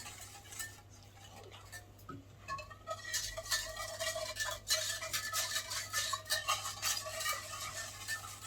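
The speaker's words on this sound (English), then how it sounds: "get a whisk and whisk them together to dissolve the sugar" A whisk beats milk and sugar together in a bowl, with rapid, steady metallic clicking and scraping against the sides that grows louder and busier after a quiet start.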